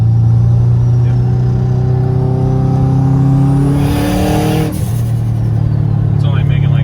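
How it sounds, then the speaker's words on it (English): A turbocharged car engine of about 600 hp holds a loud steady drone, then climbs as turbo intake whoosh rises and briefly releases, settling back to a constant rumble. "you could hear the turbo for sure, but that suck in noise, I mean, that's like ridiculous."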